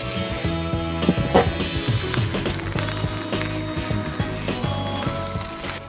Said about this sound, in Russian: Слышите, как шкварчит?